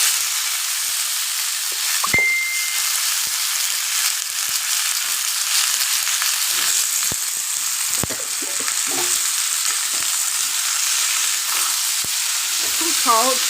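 Raw pumpkin pieces sizzling and frying in a pan for a pumpkin and potato curry, a loud continuous sizzle broken by occasional spoon knocks and stirring scrapes, with no talking.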